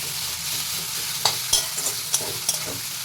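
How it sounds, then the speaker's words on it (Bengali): Spice masala for mutton curry sautéing in a pan with a soft, steady sizzle, broken by several sharp scrapes of the spatula. "দেখো মশলাগুলো সব দিয়ে দিয়েছি, এইবার মশলাটাকে একটু কষিয়ে নিই।"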